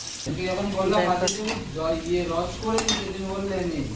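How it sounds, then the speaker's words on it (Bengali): Onions sizzle steadily in hot oil in a pan for coriander chicken, with a constant close frying hiss and occasional soft stirring clinks throughout. "তো পেঁয়াজটা ভেজে নিই ভালো করে, তারপরে চিকেনটা ভাজবো।"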